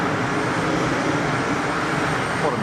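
An airliner landing at Geneva Airport with bucket thrust reversers deployed, a loud, continuous broadband roar of engines at high power that stays steady throughout, with no voices.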